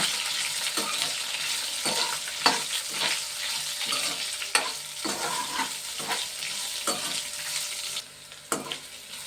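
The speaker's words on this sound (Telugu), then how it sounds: "చూడండి వేగుతున్నాయి." Food fries in a pan with a continuous close sizzle, broken by repeated scraping stirs and clinks of the utensil, with no voices.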